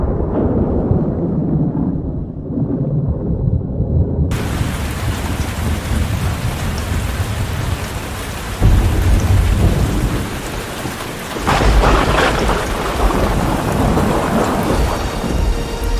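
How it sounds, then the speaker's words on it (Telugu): A thunderstorm with heavy rain: a lighter shower quickly swells into a loud, steady downpour, with deep rolls of thunder breaking through twice near the end. "కొంచెం కొంచెంగా వర్షం, అలాగే సడన్ గా వర్షం పెద్దగా వచ్చింది"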